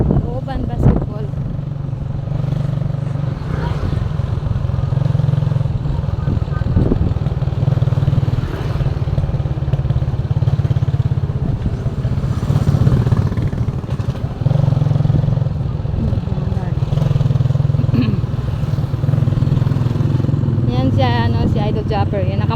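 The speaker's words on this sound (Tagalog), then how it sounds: "yan nakamotor. Angkas siya si Mateo" A motorcycle carrying a passenger rides along with a continuous low engine drone throughout, joined by voices talking over it and occasional clattering.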